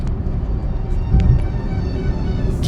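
Vehicles crawl in a traffic jam on the Chityala flyover on the road toward Hyderabad, a steady, close engine rumble with faint higher noises above it and no voices.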